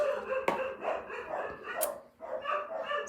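A dog barks on and off close by at someone who pulled up outside, loud repeated barking with brief gaps, some yips mixed in.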